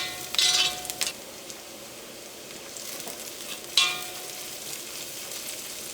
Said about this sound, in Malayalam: ഇപ്പം ഇഞ്ചിയും വെളുത്തുള്ളിയും സവോളയ്ക്കൊന്ന് മുരിഞ്ഞിട്ടുണ്ട്.